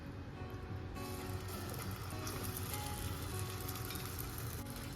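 Toast batter is spread over a nonstick pan greased with ghee, giving a steady soft sizzle that runs evenly for a few seconds with faint scraping.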